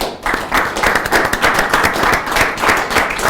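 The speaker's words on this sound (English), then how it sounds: "Let's give Sarah Jane a big round of applause." Big round of applause from an audience at a Colorado business awards fireside chat, dense rapid clapping that stays loud and even throughout with no talk over it.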